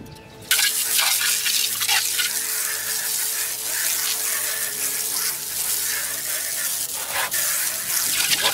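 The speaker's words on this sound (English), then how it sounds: "rinse wheel thoroughly with cold water" Steady spraying cold water hisses continuously over a car wheel, a broad rushing wash with small splashes, close by and loud, no talking.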